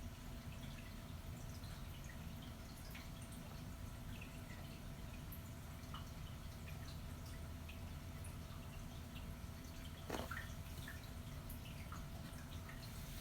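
Water drips and trickles steadily in a home reef aquarium, a faint, continuous wet patter with one sharper splash near the end; no one talks.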